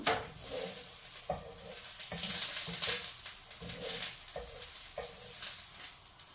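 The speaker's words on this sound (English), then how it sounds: "This is the garlic. Now we stir until it turns brown." Garlic frying in a pan for chicken adobo is stirred steadily, with a constant close sizzle broken by regular scraping strokes of a utensil against the pan.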